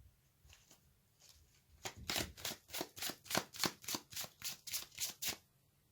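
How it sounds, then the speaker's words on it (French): Tarot cards riffle-shuffled in a quiet room, a few soft flicks giving way to a steady run of about a dozen crisp, evenly spaced card slaps, close and moderately loud, with no voice. "Je vais tirer une carte supplémentaire pour savoir ce que vous souhaitez."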